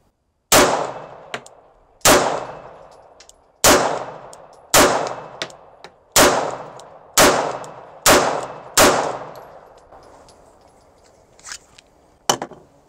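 A $170 1911 pistol fires about seven loud, evenly spaced shots, each with a sharp crack and ringing decay, followed by faint metallic pings from steel targets.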